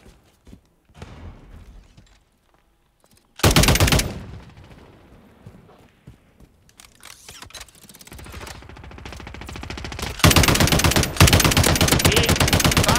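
Call of Duty MW3 gunfire: a short, loud automatic burst, then a quieter stretch of scattered shots and clatter, before a long, sustained volley of rapid shots that dominates the end.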